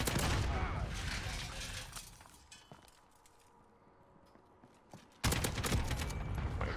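AK-47 fire in the video game Modern Warfare, a dense burst of rapid shots for about two seconds, a quiet lull, then another sharp loud burst near the end.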